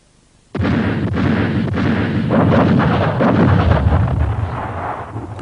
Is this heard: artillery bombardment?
yes